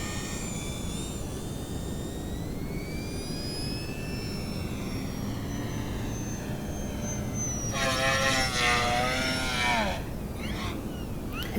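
An E-Flite Eratix 3D flat foamy 860mm RC airplane flies overhead, its electric motor a thin whine rising and falling in pitch, with a louder, sharper buzzing pass near the end over constant outdoor wind noise.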